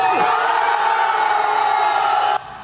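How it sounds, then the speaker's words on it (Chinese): Supporters cheer and shout loudly as a crowd, a sustained wall of raised voices that holds steady before cutting off abruptly near the end. "近两位民众大声欢呼"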